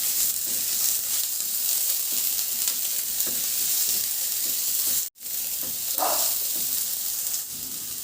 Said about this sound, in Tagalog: Igisa ko na rin yung bawang. Igisa ko na rin yung sibuyas.